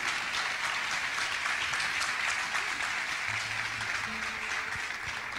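A church congregation gives the Portuguese translator at a sermon a long round of applause. The clapping is steady and even, moderately loud and dense throughout, with faint low sounds underneath.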